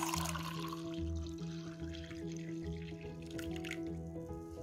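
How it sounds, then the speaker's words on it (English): Water poured into a glass, a steady running and trickling pour that continues throughout beneath a constant low hum. "Now I will pour water in this glass."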